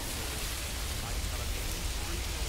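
Steady, dense rainfall in the medieval city-builder Manor Lords, a continuous even hiss with a low rumbling undertone that holds at the same level throughout.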